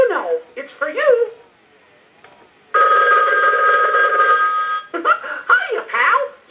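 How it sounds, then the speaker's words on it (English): A toy-like electronic ring comes from an animated Mickey Mouse telephone. It is one sustained, loud ringing burst between stretches of a cartoonish voice talking. "Hiya, pal. You've got a phone call."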